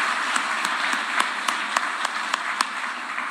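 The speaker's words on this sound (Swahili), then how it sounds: "Tumpigie makofi jamani." Audience applause at a Constituency Development Fund 20th anniversary event, a steady wash of clapping with sharp individual claps standing out, moderately distant and sustained.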